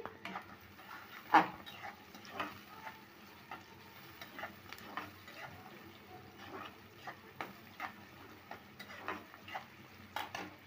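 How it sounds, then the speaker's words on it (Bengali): Onions crackle and sizzle in hot oil in a home-kitchen pan while a spicy chicken curry is being started, with steady frying noise broken by scattered sharp clinks and scrapes of a utensil. "তেল গরম হয়ে গেছে, পেঁয়াজ দিয়ে দিছি"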